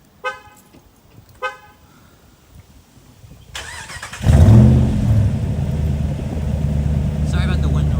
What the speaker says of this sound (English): we'll do a little rev to put you down right now